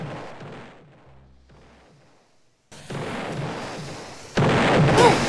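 Gunfire in a shooter video game, bursts of booming, crackling shots that fade to near silence and then return louder in dense, heavy volleys.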